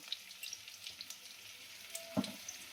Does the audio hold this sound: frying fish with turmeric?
yes